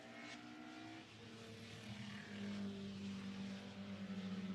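Diesel BMW 635 CSi touring car climbing uphill at Spa during Heritage Touring Cup qualifying, a distant engine drone that rises in pitch and grows louder as it approaches, with a faint wavering tone.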